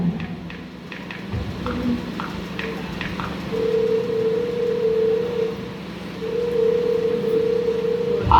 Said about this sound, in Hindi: अरे ये किसका फोन आ रहा है?